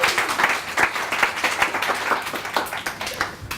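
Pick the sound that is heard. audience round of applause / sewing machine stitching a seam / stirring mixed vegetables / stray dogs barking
audience round of applause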